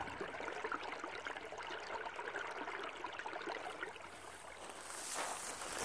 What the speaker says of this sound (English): if you listen, you can hear the water in it.